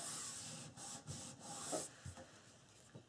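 A bone folder is rubbed firmly across glued paper in a handmade mini album, a series of close, quiet scraping strokes in uneven rhythm with no talking.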